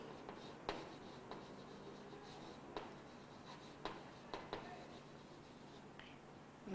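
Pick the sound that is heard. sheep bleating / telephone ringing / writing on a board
writing on a board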